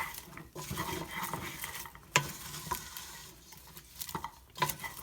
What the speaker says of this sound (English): I will just pour my popcorn right in very quickly and stir them together